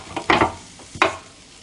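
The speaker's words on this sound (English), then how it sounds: "let's see if I can get in here and get them flipped over" Chicken tenderloins being flipped on a Ninja Foodi grill give two short scraping, sizzling bursts with a quieter shuffle between, close and brief, with no speech.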